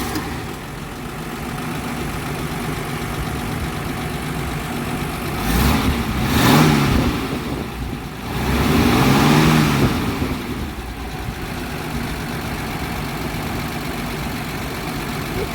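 A 1948 Dodge flathead six with shotgun dual exhaust idles steadily and alone, its low rumble swelling in two brief revs midway before settling back to a smooth idle.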